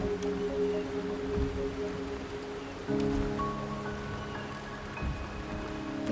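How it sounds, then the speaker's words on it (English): Rain falling steadily in the Wuthering Waves video game, a continuous close wash of drops on surfaces with sustained musical tones and a soft game score underneath, no voices. "The rain is subsiding, and the sky will soon clear."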